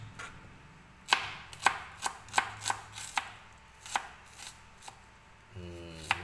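Onion being chopped on a board for pork adobo: about a dozen sharp knife strikes in an uneven rhythm, close and distinct, with a short low rumble near the end.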